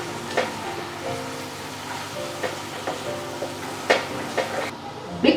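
A pan of green chickpea curry with yogurt and besan gets stirred, soft spoon scrapes and light bubbling sizzle at moderate level, with a few sharper clinks spaced irregularly and no talking.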